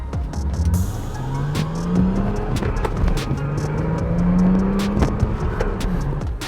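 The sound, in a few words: BMW car driven hard on test drive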